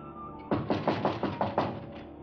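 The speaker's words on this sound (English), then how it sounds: "He'll be knocking in a second" Six or seven firm knocks on a door, evenly spaced and fairly close, rapping out a steady rhythm against a quiet interior background in a 1950s Western drama.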